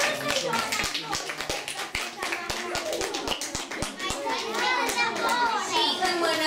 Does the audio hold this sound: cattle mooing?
no